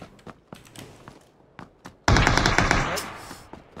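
A sudden burst of rapid automatic gunfire from a squad-based shooter video game erupts after a few scattered single shots, loud and sustained, with a gamelike crackle.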